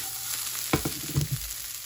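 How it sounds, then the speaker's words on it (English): Stir-fry vegetables hitting a hot pan, a steady sizzle with a few short clatters and scrapes as they are tossed. "Put those stir fry veggies in a hot pan."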